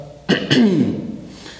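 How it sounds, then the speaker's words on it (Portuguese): Two sharp coughs in quick succession, close and loud, followed by a brief throat-clearing rasp that trails off. "Nossa, tô tossindo."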